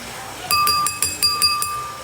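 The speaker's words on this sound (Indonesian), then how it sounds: "Gelas." A drinking glass is clinked about seven times in a quick, even series, bright ringing taps close by over a quiet background with no talk.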